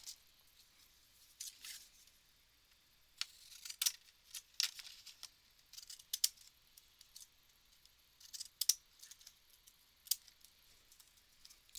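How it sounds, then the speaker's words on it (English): Scissors snip through paper for a handmade mini book in a quiet room, with a series of short, close, soft cuts and rustles arriving in irregular bursts. "I'm gonna cut this down some."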